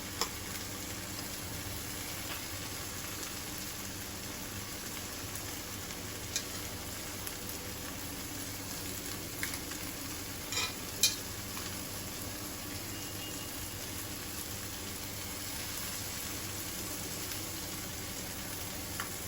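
Spiced taki fish fry in a pan giving a steady, low background sizzle for a long stretch, with a few faint clicks of stirring near the middle.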